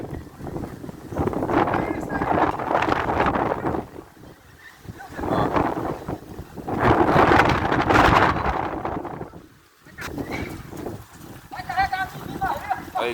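Strong hurricane-force wind roars past the microphone in Planura, gusting in heavy surges that rise and fall, while someone talks through the buffeting.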